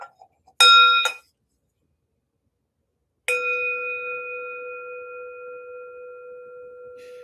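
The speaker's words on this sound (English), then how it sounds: "Oh, I like to start with my bell." A meditation bell struck twice in quick succession, then rung once more after a pause, its clear metallic tone ringing on and fading slowly into silence.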